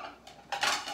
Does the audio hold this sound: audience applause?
no